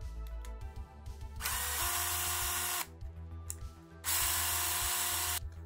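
An electric screwdriver backs gold screws out of a USB PD charger casing, giving two loud buzzing bursts of about one and a half seconds each, with quieter clicks and handling sounds around them.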